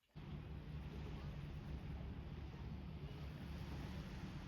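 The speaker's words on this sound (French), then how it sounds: "Je viens d'arriver à la plage." Wind and waves at a beach, a steady full-band roar of surf and wind buffeting close to the microphone, continuous throughout without talk.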